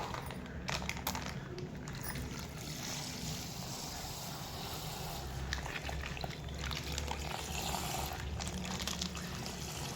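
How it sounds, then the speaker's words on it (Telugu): About a litre of Visakha Dairy raw milk is poured onto flour for sankranthi rose cookies, a steady close trickling pour that runs throughout with soft kitchen clatter. "పైన ఉన్న పిండికి నేను లీటర్ పచ్చిపాలు దాకా విశాఖ డైరీ పాలు అయితే వేసుకుంటున్నాను."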